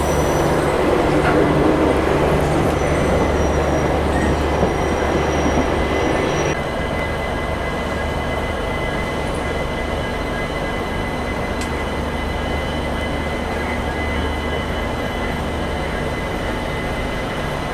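The Bikaner Intercity Express rumbles steadily as it pulls away from Delhi Cantt, loud continuous wheel-and-carriage noise with a faint squeal of wheels on rails that eases slightly partway through and then carries on evenly.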